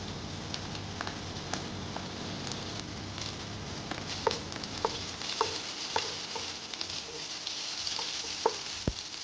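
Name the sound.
garlic sizzling in hot olive oil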